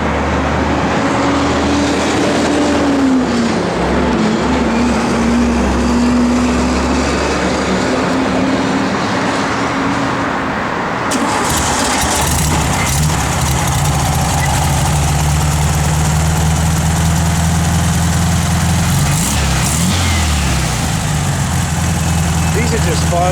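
A 1972 Volkswagen Beetle engine idles steadily nearby, a low continuous rumble that runs throughout, with people talking over it.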